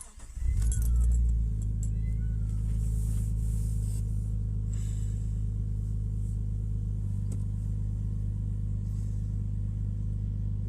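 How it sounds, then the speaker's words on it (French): A cold inline six-cylinder car engine cranks and catches with a brief flare, then settles into a steady, smooth idle, loud and close, holding its even rumble for about ten seconds. "je vais vous démarrer la voiture pour que vous puissiez entendre le bruit du 6 cylindres en ligne"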